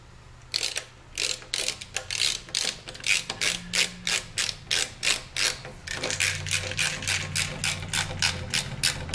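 A screw is driven tight on a Cyron ABIG4.5 LED passing lamp on a Harley-Davidson, heard as a close, steady run of ratcheting clicks from a hand tool, fast and regular throughout with no voices.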